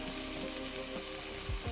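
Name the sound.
garlic and lime prawns sizzling in a frying pan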